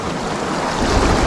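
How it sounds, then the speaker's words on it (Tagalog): Loud, continuous roar of big ocean waves breaking and surging, with a swell building toward the end; wind buffets the microphone. "Grabe laki ng alon, migo."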